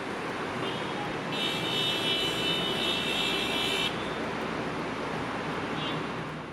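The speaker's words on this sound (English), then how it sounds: "I'm just not used to the amount of honking and noise you hear constantly 24/7" Cairo street traffic makes a constant dense roar, with a sustained car horn blaring for a few seconds over the steady noise.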